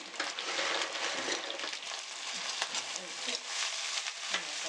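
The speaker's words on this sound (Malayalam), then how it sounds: "ഞണ്ടിനെ ഇട്ട് കൊടുക്കാം. ചെറിയ ഞണ്ട് നല്ല ടേസ്റ്റായിരിക്കും" Small cleaned crabs fry in a pan for a Kerala-style crab dish, giving a dense, continuous sizzle broken by scraping stir strokes, heard up close with no talk over it.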